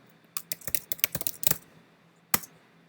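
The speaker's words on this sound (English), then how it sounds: "I'm going to log in with my password" Keys tapped on a MacBook keyboard while a password is typed: a quick burst of about a dozen close, crisp clicks, a short pause, then one final keystroke.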